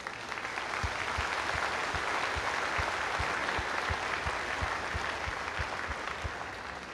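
Sustained applause from a large audience at a college graduation ceremony, a dense continuous wash of clapping with steady low thumps running through it, holding level for several seconds before easing off slightly.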